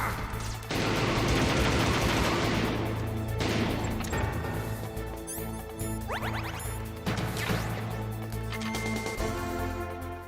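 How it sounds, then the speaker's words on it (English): Gunfire and explosions from enemy grenades in a Lego Metal Gear Solid game sound in dense, loud volleys, with sharp crashes and rapid shots over about ten seconds and no talking. "they're throwing grenades now"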